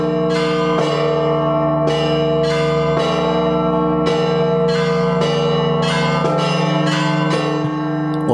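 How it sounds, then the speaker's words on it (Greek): Many church bells rung by rope in a Jerusalem bell tower, one large bell among eighteen, ring loud and close in a dense, continuous peal with regular strikes about once a second. "Ο ένας χτυπάει τη μεγάλη καμπάνα και ο άλλος με σκοινιά χτυπάει 18 καμπάνες ταυτόχρονα."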